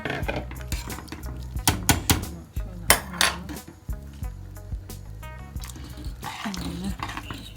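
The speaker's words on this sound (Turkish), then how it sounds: "Bir de sürekli karıştırın." A utensil clanks and scrapes against a pot while stirring yogurt soup, giving irregular metallic knocks and rattles close up, with some sloshing.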